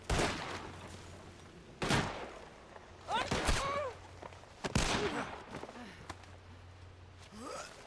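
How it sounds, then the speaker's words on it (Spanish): Gunshots ring out in Red Dead Redemption II, played on the RedM roleplay server during a fugitive hunt: a few sharp cracks spaced seconds apart, with faint voices in between. "tío, me está disparando"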